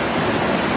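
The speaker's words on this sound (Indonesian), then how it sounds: "banjir sangat deras" Heavy floodwater surges through Jalan Pagarsih in Cibadak, Bandung, overflowing from the Citepus river: a dense, steady roar of rushing water fills the whole short stretch, loud and close, with no voices.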